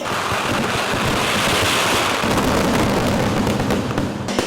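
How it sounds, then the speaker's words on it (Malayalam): A dense, loud barrage of fireworks crackles and booms continuously at a Kerala temple festival, the bursts blending into a roaring wall of noise. "വർണ്ണാഭമായ വെടിക്കെട്ടിന് തിരികൊളുത്തുന്നതോടെയാണ്"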